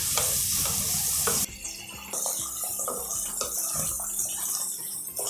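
Paneer cubes fry in hot oil for palak paneer, a steady close sizzle with occasional stirring scrapes and clinks, loud and continuous without speech.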